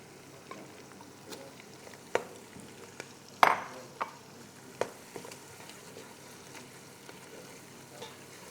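Minced meat frying with onions in a pot, a low continuous sizzle broken by scattered sharp clanks and scrapes of a spoon against metal, one louder knock midway, no voices.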